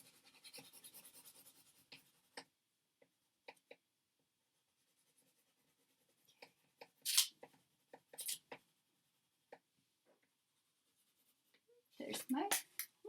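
Crayon or marker coloring on paper in a third-grade art lesson, strokes running off the paper's edge: scattered scratchy strokes in short bursts, loudest near the start and end, with a voice heard early on.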